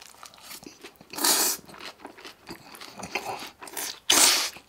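Someone bites and chews beef rib wrapped in lettuce alongside ramen, close crunchy bites with two louder crisp crunches between softer chewing sounds, no talk.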